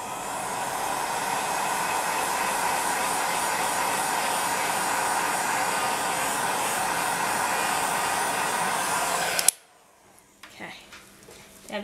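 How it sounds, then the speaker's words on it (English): A heat gun blows hot air across polymer clay resin: a steady, loud rushing hiss that runs without a break for about nine seconds and then cuts off abruptly, leaving only faint clinks and handling noises. "you want to go back with the heat gun and get it."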